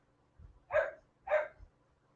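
A small dog barks twice indoors, two short, fairly loud yaps about half a second apart, with quiet low rumbling in between.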